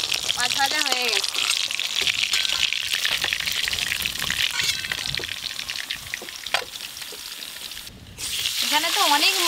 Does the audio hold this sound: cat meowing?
no